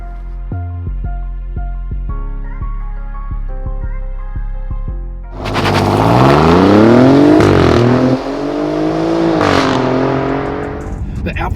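An Alfa Romeo Giulia Quadrifoglio idles with a deep, pulsing burble, then its engine revs hard and loud, climbing and falling in pitch twice, with brief crackles between the rises.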